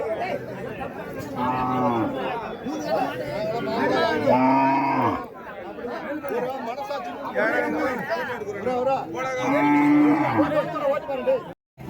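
Old bulls low repeatedly at the Uthangarai cattle market, long drawn-out moos rising over a busy crowd of chattering voices close by.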